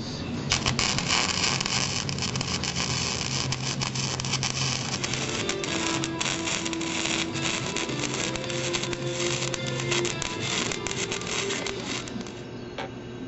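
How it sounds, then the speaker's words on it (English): Welding frenched headlight buckets into a hot rod's body from the backside, a steady loud crackling buzz with a constant hum underneath, running continuously for the whole stretch without speech. "Now I'm gonna weld them from the backside first."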